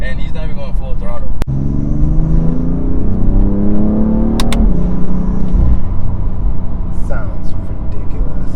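A BMW F80 M3 Competition with a DCT gearbox accelerates hard, its engine note climbing steadily with quick gear-change breaks between rising pulls, loud and close under constant voices talking inside the car.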